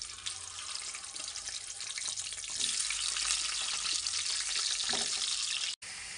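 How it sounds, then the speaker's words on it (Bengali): Potatoes fry in hot white oil in a kadai for chicken biryani, a steady loud sizzle that swells partway through and runs on continuously until an abrupt brief cut near the end, with no talking. "এবার আমি আলুগুলোকে খুব ভালো করে ভেজে নেব"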